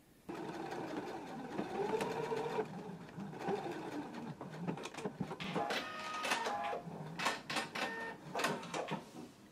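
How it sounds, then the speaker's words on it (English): A domestic sewing machine stitches the ends of fabric together for a pair of pants, running in short bursts with whirring, clattering mechanical rhythm close up and no talk. "Now we can take it to the sewing machine and we can stitch the ends together"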